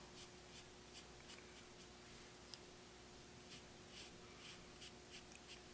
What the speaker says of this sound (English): Take my charcoal pencil,